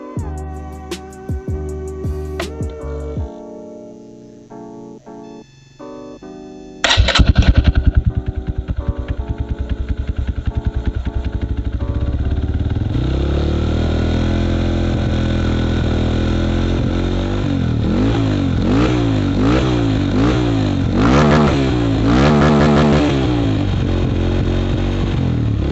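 A Honda CRF 150L supermoto on its stock ECU revs repeatedly up to the rev limiter. The engine sits close and loud, climbs in pitch and bounces off the limiter, and no one speaks.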